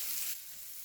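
Polish sausage browning in a pan, a steady bright sizzle that is louder for the first third of a second, then settles into a softer continuous frying hiss with no talk.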